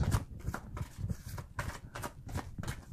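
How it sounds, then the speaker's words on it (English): Large tarot cards being shuffled by hand in repeated quick riffling bursts, close and crisp, with short pauses between each pass and no talking. "I'm here all day shuffling these big cards"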